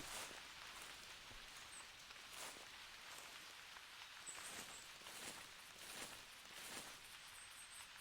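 Rain falls in theHunter Classic, a soft patter of drops on foliage and ground with faint rustling, quiet and steady throughout, ending in a brief sharp knock.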